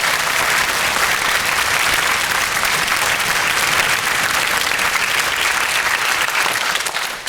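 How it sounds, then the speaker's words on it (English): An audience at a high school fall band concert applauds in a dense, steady wash of clapping that stays loud throughout and fades slightly at the end. "Can we give a round of applause for the town of Lexington?"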